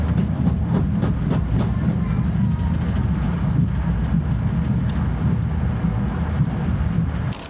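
Passenger train travelling between Samarkand and Bukhara in Uzbekistan, a steady low rumble with faint clickety-clack over the rails, continuous and close from inside the carriage, with indistinct voices in the background.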